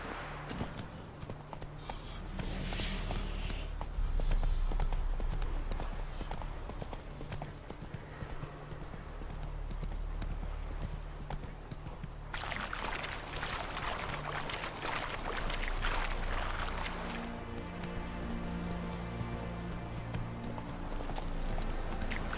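Roach, the horse in the video game Witcher 3, trots with steady rhythmic clip-clop hoofbeats, joined by ambient game sounds and a brief burst of louder noise midway.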